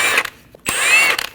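A 17mm socket on a ratchet loosening the lug studs on the rear wheel of a 2012-2022 Volkswagen Passat, giving two short bursts of rapid mechanical whirring and clicking with a brief pause between, close and loud.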